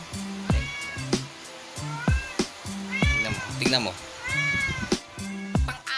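Cats meow repeatedly up close in short, rising cries of varied pitch, some drawn out, while a person speaks briefly in between.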